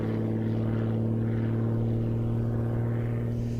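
A propeller airplane drones steadily during an aerobatic routine at the Sun 'n Fun airshow, a constant engine hum with a strong low tone held throughout, heard from a distance with no talk.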